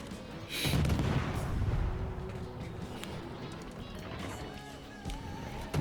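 Naval guns on a ship firing in World of Warships, a heavy boom at the start followed by a long rumbling tail and scattered lighter blasts and effects, with game background noise throughout.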